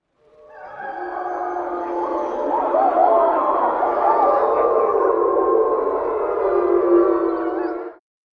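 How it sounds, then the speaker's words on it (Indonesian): Several long, overlapping wolf howls rise and waver together in a sustained chorus, fading out abruptly at the end. "Langit kembali dipenuhi lolongan serigala, seakan-akan menangis kepergian saudaranya."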